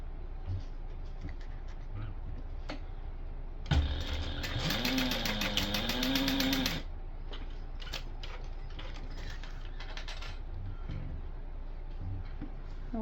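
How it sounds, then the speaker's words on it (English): Sewing machine basting the folded ends of a 4-inch webbing strip around a rectangle ring for a small tote, running in one steady burst of about three seconds midway, with quieter handling noise before and after. "take our 4-inch piece of webbing and fold it around the rectangle ring and baste the ends together"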